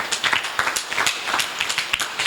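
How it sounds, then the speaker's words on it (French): An audience applauding at a Sunday gathering, a short burst of dense, fairly close hand clapping that holds steady throughout. "On acclame."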